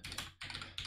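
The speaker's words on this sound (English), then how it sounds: "So I'm gonna click start recording and I'm gonna start typing" Typing on a Redragon computer keyboard, with three quick bursts of clicky keystrokes close up and no talking.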